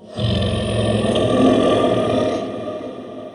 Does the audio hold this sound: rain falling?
no